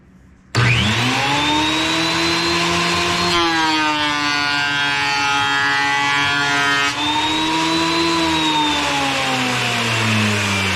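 A repaired power planer runs steadily at close range, a loud continuous mechanical whine with a shift in pitch partway through as it works, no talking.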